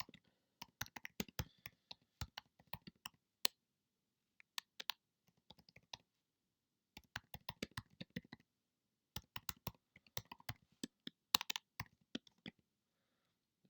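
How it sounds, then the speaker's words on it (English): Bursts of keyboard typing, crisp clicking keystrokes in quick runs separated by short pauses, close and fairly quiet. "very accurate typing there."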